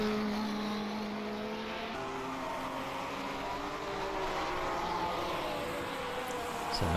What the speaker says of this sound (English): So we got about 7 cars out on circuit at the moment.